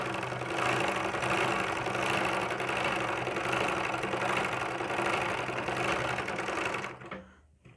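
Interlock sewing machine stitching the armhole of a suit runs at a steady, fast, loud whir for several seconds, close by, then winds down and stops at the end.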